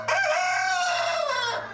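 A rooster on a New Gloucester farm gives one long, loud, close crow, with chickens faintly in the background and no one speaking.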